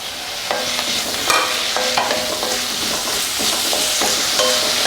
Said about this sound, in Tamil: தக்காளி வந்து நல்லா ஒரு மாதிரி ஜூஸியா வரட்டும், அது வரைக்கும் நல்லா வதக்கி விடுங்க